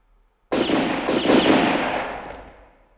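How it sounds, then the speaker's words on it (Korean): Gunshots ring out at a harbor pier: a sudden loud crack after a brief silence, then a booming reverberant tail that fades away over a couple of seconds. "다나카가 배에서 내리는 순간 세 발의 총성이 부두에 울려 퍼졌다"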